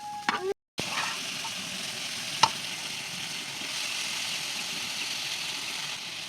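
Spiny gourd (kakrol) frying with spices in a pan gives a steady, close sizzle that runs throughout, with a brief clatter near the start and a single sharp tick partway through.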